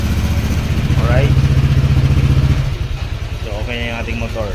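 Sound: motorcycle engine running during test after ECU EEPROM reset

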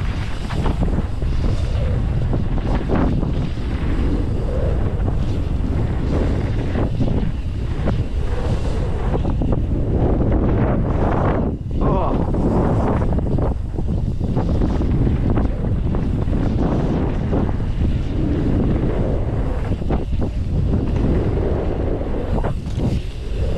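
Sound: wind blowing outdoors

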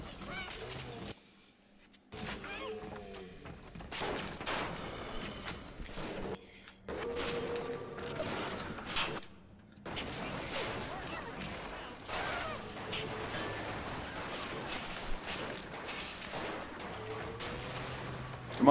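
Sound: gunfire being shot at the player in BioShock, video game

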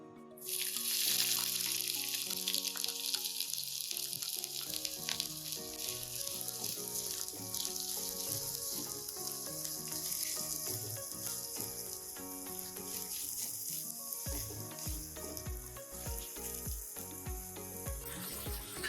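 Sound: chopped onion frying in hot oil in a kadai

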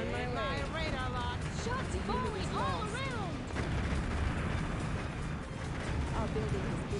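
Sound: artillery shots falling all around, from video game Earth 2150

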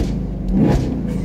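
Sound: Chevrolet Camaro SS engine revving in track mode

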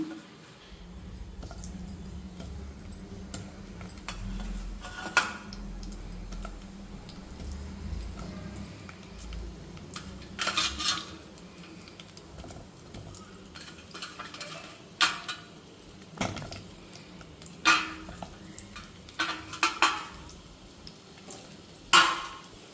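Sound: bitter gourd pieces frying in hot oil

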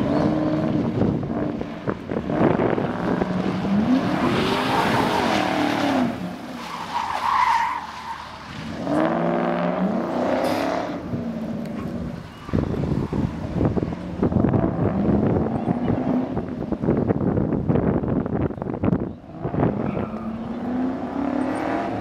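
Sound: Mercury Marauder dual overhead cam engine driving

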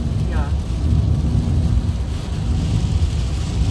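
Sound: heavy rain

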